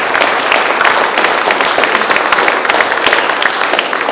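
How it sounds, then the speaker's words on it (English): An audience at a Redwood Fire Complex recovery meeting applauds, a loud, dense burst of many hands clapping at once that carries on steadily throughout with no talking. "Let's give them a round of applause."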